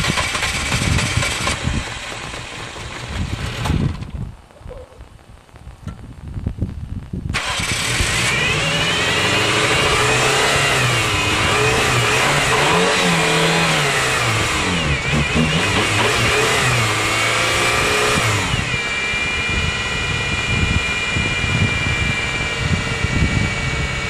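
An older Suzuki Swift car engine, started for the first time after sitting on a farm, cranks, catches and runs. It revs up and down repeatedly, loud and close, then settles into a steady idle.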